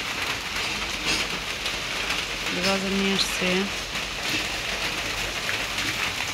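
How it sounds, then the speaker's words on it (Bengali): Rain falls continuously in a steady, close hiss while a person talks briefly partway through. "দেখেন বৃষ্টি তো ছাড়েই"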